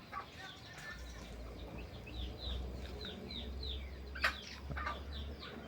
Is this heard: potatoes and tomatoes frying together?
no